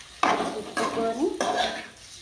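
Egg curry with garlic chilli masala stirred in a pan, three distinct scraping sweeps of a spoon against the metal with a faint sizzle between them, close up.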